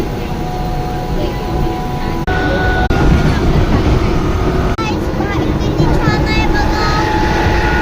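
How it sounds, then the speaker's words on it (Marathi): Train riding into Mumbai CST, a loud continuous rumble of the moving carriage with rattling and shifting tones, and people talking over it. "आम्ही ट्रेन मध्ये बसलो आहे"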